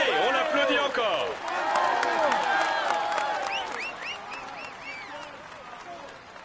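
A crowd at the finish of stage 19 of the 2015 Tour de France, Saint-Jean-de-Maurienne to La Toussuire, applauds and cheers a rider, loud and dense throughout with whistles and shouts, easing slightly toward the end.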